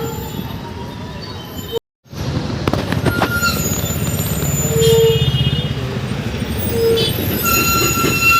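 A train rumbles and screeches through Bangalore Majestic railway station, with a steady low rolling roar, metallic clanks and high wheel squeals over busy station ambience, loud and near.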